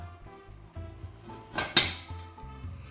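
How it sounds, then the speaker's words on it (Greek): Metal cooking pot of pork and potatoes on a low stove, its lid set on with a few light clinks and scrapes, ending in one sharper clatter near the middle, close and alone. "Σκεπάζω την κατσαρόλα"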